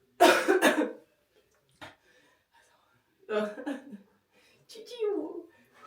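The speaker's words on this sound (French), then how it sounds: "t'as fini de tousser là?" A person coughs indoors in three separate bouts: a loud, harsh double cough at the start, then two softer, raspier coughs a few seconds apart, with quiet in between.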